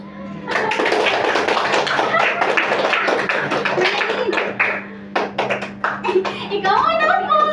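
Children in a classroom clap in a game, with dense, rapid claps of varying loudness that drop out briefly near the middle and resume while children's voices chatter underneath.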